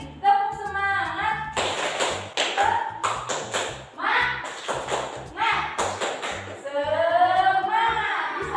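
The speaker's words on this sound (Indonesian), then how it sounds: "Ayo, yang ini tepuk semangat." A classroom of children does the tepuk semangat chant, rhythmic bursts of clapping alternating with sung and shouted voices, close and lively, with a teacher's voice between the claps.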